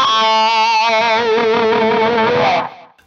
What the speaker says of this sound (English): If you add wah to that, it's an extra gritty sound.